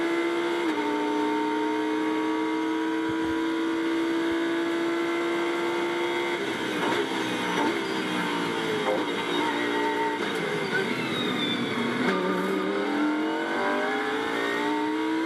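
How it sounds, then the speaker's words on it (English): Onboard a Lamborghini GT3 race car during a British GT race at Snetterton, the engine roars loud and close, holding a steady note before dropping and climbing through repeated gear changes. "Let's listen in this time as well. Hugo Cook's Lamborghini is your soundtrack."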